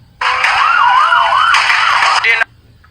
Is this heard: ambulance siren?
yes